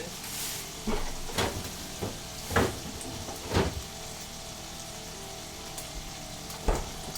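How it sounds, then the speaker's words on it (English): Peppers sizzling in a frying pan, a steady hiss and crackle broken by a few sharper clicks and taps of a utensil, close and even, with no talk. "So while that sizzles"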